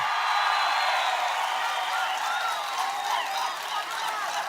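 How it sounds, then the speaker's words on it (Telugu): A large crowd at a Jana Sena and BJP political rally claps and cheers continuously, a dense, steady roar of applause with scattered whoops and no pause. "ఆశీర్వదిస్తామని గట్టిగా చప్పట్లు కొట్టి చెప్పండి"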